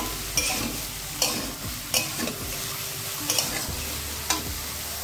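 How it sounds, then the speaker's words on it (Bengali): Eggplant fries in oil with salt and turmeric under a continuous sizzle, punctuated by regular spatula clacks against the pan roughly every second. "এটা দিয়েই বেগুনটাকে ভেজে নিচ্ছি।"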